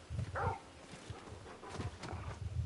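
Torgal, a hound in the video game Final Fantasy XVI, gives a few faint barks and whimpers with soft yips, close by and quiet.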